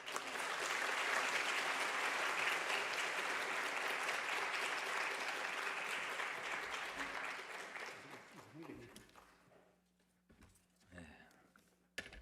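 Sustained, loud applause from a large church congregation fills most of the clip, then fades out, leaving a quiet room with faint voices.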